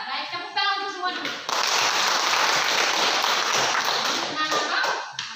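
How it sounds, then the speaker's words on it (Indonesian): Classroom applause from students in a lesson, a dense, sustained burst of clapping lasting several seconds, with a teacher's voice speaking briefly before and after. "tepuk tangan untuk semua dulu"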